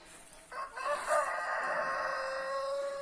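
A rooster crows long and loud near a chicken coop, one drawn-out call that rises and holds for over two seconds, with faint clucking from the other chickens around it.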